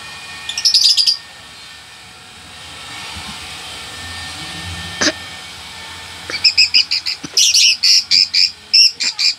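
Birds chirp in short bright bursts, a brief flurry early on and then a rapid run of repeated chirps, over a faint low rumble.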